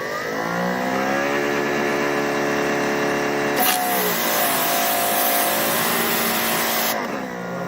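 A Greenworks Pro 3000 PSI electric pressure washer motor whines up with a steady tonal hum, then a loud hissing spray bursts in for a few seconds before cutting back. The sound is close and continuous.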